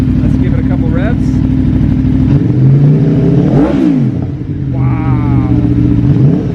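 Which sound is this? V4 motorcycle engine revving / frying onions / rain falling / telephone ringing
V4 motorcycle engine revving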